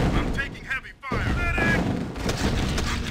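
Heavy gunfire and artillery crash through a strategy video game battle with bombers in the sky, a dense run of booms and shots that drops out briefly near the one-second mark and then pounds on steadily.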